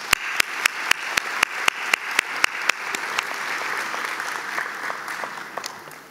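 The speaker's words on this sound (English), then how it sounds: "please join me in a round of applause for their accomplishment" Graduation ceremony audience applauds, opening with a row of loud, evenly spaced sharp claps that give way to a denser, steady wash of many hands clapping from the crowd.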